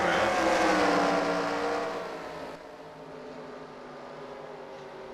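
Late model race cars drone around the track in the NR2003 racing simulation, a loud, sustained engine roar with shifting pitch that fades to a steadier, quieter hum partway through.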